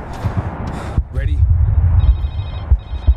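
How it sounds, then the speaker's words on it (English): A cell phone rings in the Medal of Honor video game, a thin electronic ringtone in short repeating bursts, fairly soft beneath louder game noise and a speaking voice. "Cell phone?"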